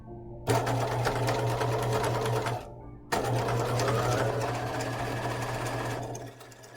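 Sewing machine stitching seams on a hanten jacket, running loud and steady in two long bursts with a brief stop between, then slowing and fading at the end.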